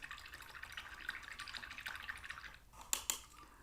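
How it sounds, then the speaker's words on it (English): Paint brush being rinsed in water during miniature painting, soft close sloshing and dripping for a few seconds, ending with a couple of brief clinks. "let me rinse off the brush"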